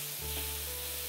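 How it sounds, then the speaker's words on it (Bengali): Chopped tomato fries in a hot pan at home with a steady, close hiss. The sizzle starts abruptly and then holds evenly with no talking. "এবারে টমেটোটা দেবো, একটু ভাজা ভাজা করতে হবে"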